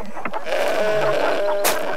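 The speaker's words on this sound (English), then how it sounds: "The metaphysical goat is here." A goat bleats in a short, wavering call that rises and falls over about two seconds, loud and close with no talking over it.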